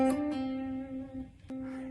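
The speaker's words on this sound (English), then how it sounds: "For the 5-7-5 hammer-on pull-off, we're going to put an 8th note triplet rhythm on that, so it'll sound like this." Guitar playing a 5-7-5 hammer-on pull-off on one string in an eighth-note triplet rhythm: a few smooth, legato plucked notes that ring clearly and close, alone with no talking.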